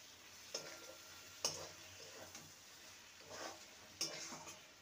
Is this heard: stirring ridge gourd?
yes